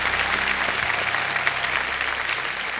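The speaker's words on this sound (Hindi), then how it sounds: "जोरदार तालियां बज जाए एक बार थोड़ा सा।" Studio audience on the Kaun Banega Crorepati quiz show set claps loudly and continuously, a thick, even wash of hands with no voices over it.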